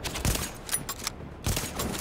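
Gunfire in the video game Tom Clancy's The Division, a few sharp bursts of shots spaced across a couple of seconds, moderately loud with no talking over them.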